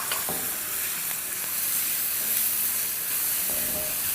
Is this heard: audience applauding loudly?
no